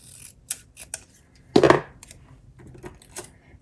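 Scissors snip through a strip of blue washi tape for a planner spread: a few light clicks, then one close, crisp cut with a brief metallic rustle, followed by soft handling noises and no talk.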